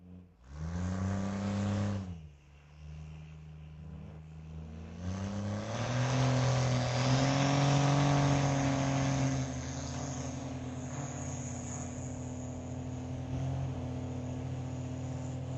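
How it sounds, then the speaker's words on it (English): A 1972 Chevrolet Nova with a Duramax diesel drag races a Cummins-powered Dodge at a diesel drag event at Mission Raceway Park, with loud engine roar revving, dropping, then building into a sustained strong pull that fades to a steady drone. "Mark Zwan here in the 72 Nova with the Duramax in it"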